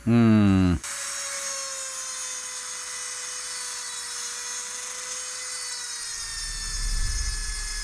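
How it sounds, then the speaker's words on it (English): A Dremel fitted with a coated ball head grinds out spot welds on a Honda Insight body during a Kubota diesel swap, giving a short loud burst then a steady high whine that runs on alone. "we're going to use a Dremel with a coated ball head"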